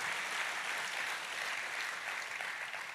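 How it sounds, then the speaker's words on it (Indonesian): Applause from a church congregation, a steady dense patter of many hands that holds at an even level without a break. "Tepuk tangannya pula yang meriah buat Tuhan kita"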